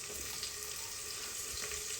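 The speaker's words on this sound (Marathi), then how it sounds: "आता बटाटे टाकून घेऊया आपण" Potatoes and onion frying in a pan for simple khichdi, a steady, fairly quiet crackling hiss that holds evenly throughout with no voices.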